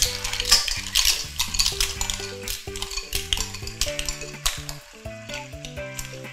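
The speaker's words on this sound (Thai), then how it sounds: "พอพริกกับกระเทียมเริ่มหอมนะคะก็ใส่หอยลายลงไปเลยค่ะ" Clams stir-fry in a hot pan with chili, garlic and basil, sizzling in soft crackling bursts with an occasional scrape of stirring, all under a melodic music bed.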